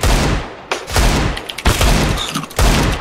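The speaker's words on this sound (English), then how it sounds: "Why are you shooting the body? Why not go for the head?" Loud, close gunfire in CS:GO, rapid bursts of automatic rifle shots from an AK repeating in several clusters with brief gaps.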